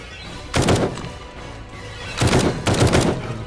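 Pump shotgun blasts in 7 Days to Die: one sharp, booming shot, then a pause, then two more in quick succession, each loud and close with a short ringing tail.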